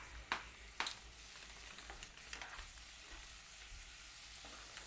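Ivy gourd curry being stirred in a hot pan with lemon juice added, a few sharp scraping strokes of a spoon over a faint continuous sizzle, close and quiet.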